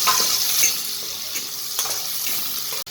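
A large onion fries in a pan for Schezwan pasta, a close, steady sizzle with stirring scrapes and clicks coming through at intervals.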